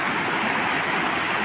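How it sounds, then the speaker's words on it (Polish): A mountain stream rushes steadily, a dense, continuous close-up wash of flowing water with no break and no voices. "I tu jest właśnie ten potok górski"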